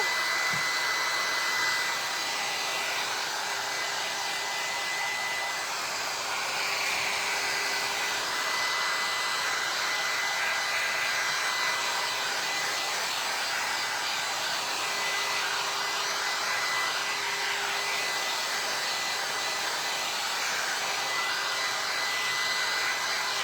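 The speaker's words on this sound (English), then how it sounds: "Oh, I love these heat tools." A handheld heat tool blows hot air to dry chalk paint on a thrifted item, giving a constant loud whirring roar that holds steady and unbroken for over twenty seconds, with no speech.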